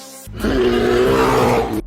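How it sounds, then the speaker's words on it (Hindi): An angry brown bear gives one sustained, loud, rough roar lasting over a second, close and alone with no other sounds around it. "भूरा भालू गुस्से में दहाड़ता है।"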